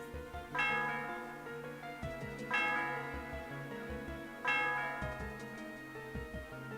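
A church bell in the video game Pokémon White 2 rings three times at slow, even intervals atop a tower, each strike ringing out and fading under a soft, steady background.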